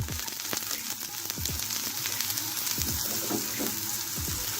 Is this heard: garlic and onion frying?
yes